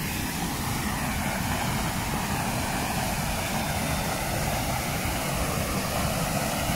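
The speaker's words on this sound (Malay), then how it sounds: "ini adalah bahagian air terjun lah" A waterfall behind the Gombak Lama police station roars in a constant, dense rush of falling water, loud and unbroken, with no voices.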